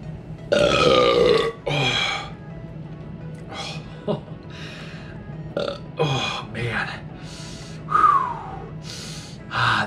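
Repeated loud, close burps from someone drinking a can of sparkling water in a burping contest challenge, several long throaty eructations spaced across the stretch with gasps and breaths between.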